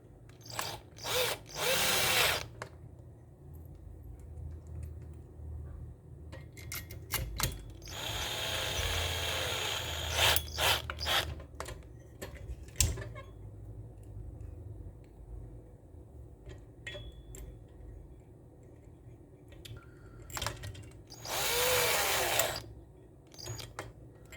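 Power drill whirs in several bursts driving screws, with short pauses, clicks and handling noises between runs, close up.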